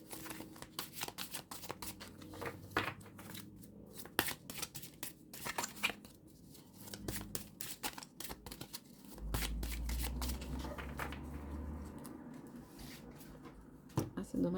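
A deck of oracle cards is shuffled by hand, giving a long run of rapid, close riffling flicks and slaps that are sometimes uneven as the cards catch, with a low murmur underneath at times.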